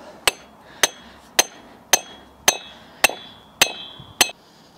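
A hammer strikes metal to knock out a wheel spacer on a Nissan 350Z, eight sharp ringing blows at a steady pace about half a second apart, close and loud, with no talking.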